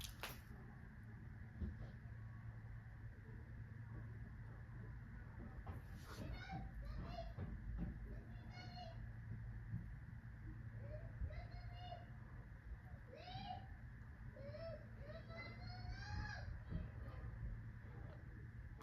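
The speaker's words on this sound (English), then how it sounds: "Kids playing." Children playing outdoors, their shouts and calls faint and distant over a steady low hum, rising in scattered bursts through the stretch while someone nearby talks.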